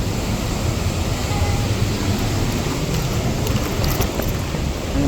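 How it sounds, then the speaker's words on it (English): Niagara Waterfall near Podgorica, Montenegro roars as a dense, continuous rushing of water, loud and steady throughout with no pauses. "Beautiful Niagara Waterfall, Montenegro."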